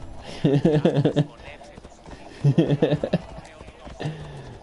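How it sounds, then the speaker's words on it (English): Horse hooves clip-clop in quick bursts while riding in the video game Assassin's Creed Odyssey on PS4, with speech mixed in and a brief whinny-like sound near the end. "Kiddo wants to ride the horse."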